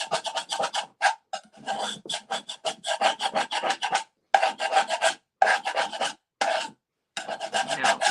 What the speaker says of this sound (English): along those edges where I put the wax, and then you're just going to scrape